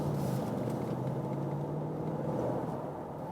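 A V8 car engine runs at steady idle, heard from inside the cabin as a low, muffled, even rumble with no talk over it.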